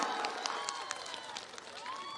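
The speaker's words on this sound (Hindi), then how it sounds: "Round of applause, everyone." Applause from an audience after a traditional dance performance at an outdoor public meeting ground in Shillong, a steady medium-loud patter of clapping with a few sharper claps and cheers, with a voice faintly audible underneath.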